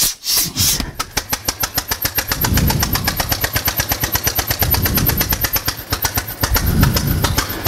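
A 1904 Buckmobile's engine starts and then runs close by with a steady, rhythmic chugging of rapid, evenly spaced firing beats that keeps up after a brief cranking burst.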